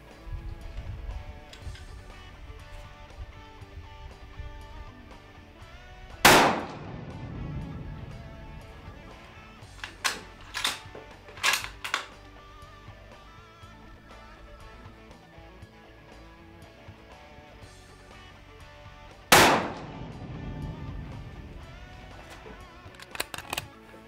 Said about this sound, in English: we're gonna put that all together here and Guy's gonna squeeze off a few shots for us